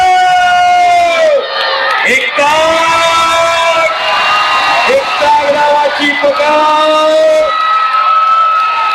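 A large crowd at a kusti wrestling bout in Maharashtra between Sikandar Shaikh and Bhola Thakur shouts and yells loudly and continuously, with many overlapping voices close by.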